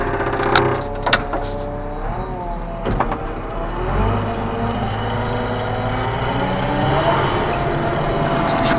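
A 3420 with a 4-speed synchronized transmission and torque converter pulls away in first gear: engine tone and gear whine rise and then settle into a steady mechanical drone, with sharp knocks and clunks near the start.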